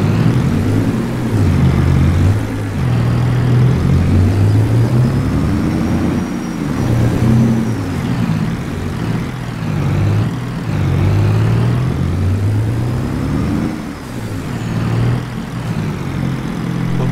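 An old truck engine in Farming Simulator 22 idles and revs in a low, rumbling drone, the pitch rising and falling in slow waves over a steady mechanical hum.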